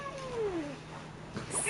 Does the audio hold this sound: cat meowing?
yes